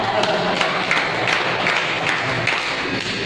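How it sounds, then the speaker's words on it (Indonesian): A church congregation applauds during a sermon, a dense wash of many hands clapping at steady loudness with a crowd murmur mixed in underneath. "Tepuk tangan buat saudara semua"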